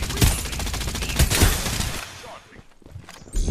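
Rapid bursts of automatic gunfire from the battle royale game Farlight 84, loud and dense at first, thinning out briefly before another burst returns, with a voice talking over the shooting.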